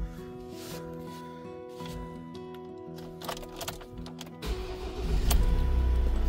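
A Ford Tourneo Custom 2.0 EcoBlue diesel van starts up: dash chimes and electrical whirs first, then the engine catches and settles into a loud, low idle rumble close by.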